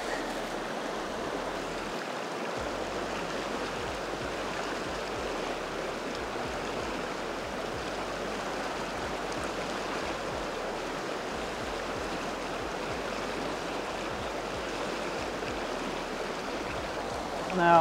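A small river's current rushes and burbles in a steady, even wash of water noise that runs unbroken throughout, heard up close without any talk.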